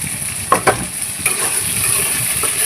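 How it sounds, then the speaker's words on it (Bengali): Potatoes fry in a pan while being stirred, a loud continuous sizzle broken by a few sharp spatula scrapes, close by with no voices. "আলুগুলি ছেড়ে দিল প্যানের মধ্যে।"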